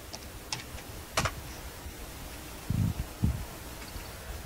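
Keys tapped on a Commodore 64 computer keyboard while loading a game, a few sparse clicks and light taps spread over a quiet background, with a couple of duller knocks near the end.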